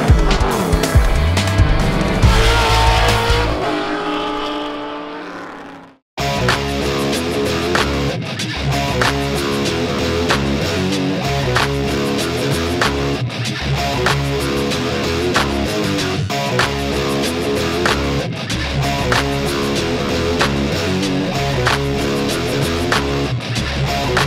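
Race cars in a vintage class at Portland International Raceway roar past on track, loud and dense engine noise with a brief cutout early, then sustained multi-car droning and revving throughout.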